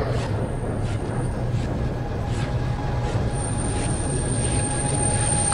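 Metro train running through a tunnel in the puzzle game Chemicus, a steady rumbling roll with faint wheel squeal and high metallic whine, continuous and fairly loud, no talk.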